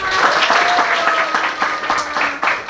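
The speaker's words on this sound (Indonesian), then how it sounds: "tepuk tangan" Applause from a room of schoolchildren in a classroom lesson, steady dense clapping lasting a few seconds with a faint voice tone running beneath.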